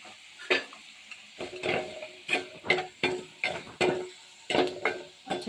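Browned onions with turmeric and chili powder fry in a pan under regular spatula stirring, about ten scraping strokes in a steady rhythm over a soft sizzle, close up with no voices.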